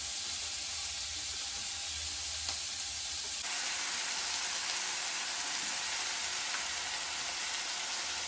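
Homemade ginger garlic paste with chilli fries in a pan, a steady sizzling hiss that swells louder partway through as more goes in, continuing evenly with no talk.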